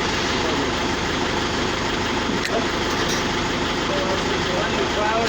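A Toyota D4D 2KD diesel engine idling during a nozzle cut-off test, a loud, steady, dense rumble that holds unchanged throughout.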